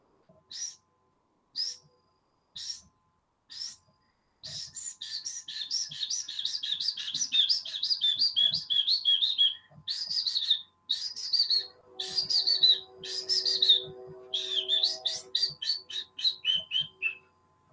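A person whistles an imitation of bird song, starting with a few separated chirps, then running into fast trilling, warbling phrases that rise and fall, close and clear in a quiet room.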